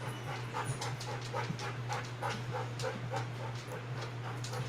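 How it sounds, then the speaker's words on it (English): A female dog pants in quick, steady rhythmic breaths with faint whimpers, close to the microphone, over a constant low electrical hum in an indoor room. "My dog."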